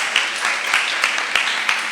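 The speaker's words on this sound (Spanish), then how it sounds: "un aplauso para Enrique Nacher" Moderate applause from a seated audience at a science talk session, thanking a presenter; a steady patter of clapping with a few sharper individual claps standing out, fairly even throughout.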